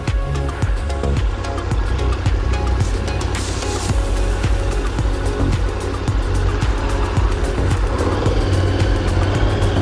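An adventure motorcycle rides off-road on a beach, its engine running loud and steady throughout with rough, bumpy mechanical rumble and no talking.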